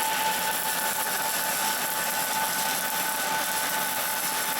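Arc welding on a 2-inch fixed pipe with a weaving bead run at a 45-degree angle: a steady, even crackling hiss that continues unbroken, close and moderately quiet, with no talking.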